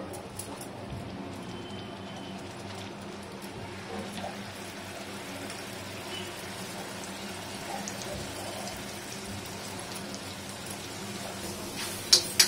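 Dry coconut masala for Koli-style stuffed pomfret cooks in oil over a low flame, giving a steady, even sizzle that crackles like light rain, with a few sharper utensil taps near the end.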